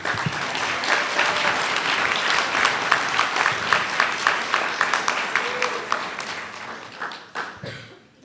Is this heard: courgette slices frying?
no